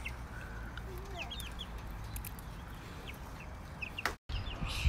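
Chickens and roosters on a farm that also keeps goats and ducks make scattered clucks and short calls, fairly faint under steady outdoor background noise, with no clear speech.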